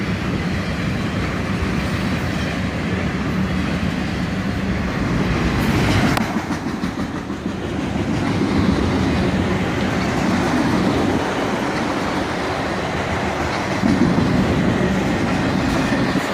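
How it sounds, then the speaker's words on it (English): Auto-rack freight train led by an ES44AC locomotive and an SD43 square-cab rebuild, rolling past steadily with continuous loud rumble and clickety-clack of wheels over rail joints, sustained throughout. "Another auto-rack train, led by an ES44 ACH and an"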